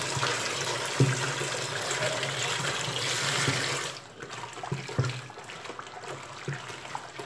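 Liquid, ethanol, is poured into a strawberry detergent mixture made with oil, giving a steady splashing pour that stops abruptly, followed by quieter sloshing and a few soft knocks.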